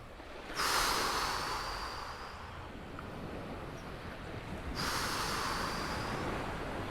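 Two long, deep breaths in an intermediate yoga class, each a strong, windy rush of air near the microphone lasting a couple of seconds, separated by a quiet pause, with no talking.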